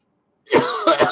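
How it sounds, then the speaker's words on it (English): A person coughs after water goes down the wrong pipe, two or three quick, close, harsh coughs heard alone. "So I tried to swallow and cough at the same time."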